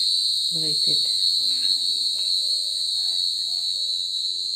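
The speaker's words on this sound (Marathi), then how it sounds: "खूप आवाज असतो रात किड्यांचा ह्या टायमाला" Crickets chirp at night in a Maharashtra village in a loud, unbroken high-pitched drone, with a few soft voices and faint sounds underneath.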